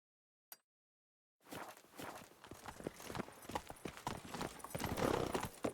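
Horse hooves clip-clopping in The Witcher 3: Wild Hunt, Blood and Wine, a rapid irregular run of close hoof strikes that starts after a short click and silence and continues steadily to the end.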